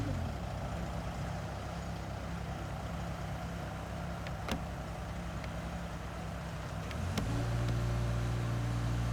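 A truck's diesel engine idles and rumbles as it pulls up with a house loaded on a trailer, a steady low drone close by, with brief clicks and a revving rise near the end.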